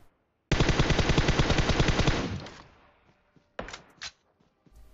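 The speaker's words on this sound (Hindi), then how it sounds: "मेरा टीममेट वहीं से गोलियां पेल रहा है" In PUBG Mobile, a teammate fires a long rapid burst of automatic gunfire, close and loud, trailing off, followed by two short separate shots.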